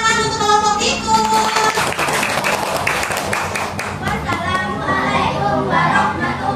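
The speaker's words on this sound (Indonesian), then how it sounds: "Tepuk tangan untuk kelompok tikus." A primary school class gives a group of students a round of applause, steady dense clapping from many hands indoors, mixed with children's voices and chatter throughout.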